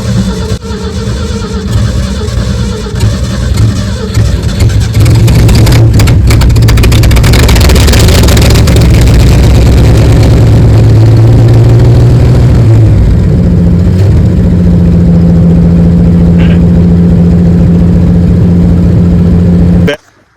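A neglected Ford F-100 that has sat for 25 years cranks and tries to start. A loud, continuous low mechanical churn runs for about twenty seconds and stops abruptly at the end, with no talking over it.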